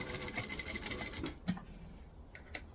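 Sewing machine stitching slowly through vinyl, a close mechanical chatter of needle strokes that eases to a stop, followed by a couple of sharp clicks.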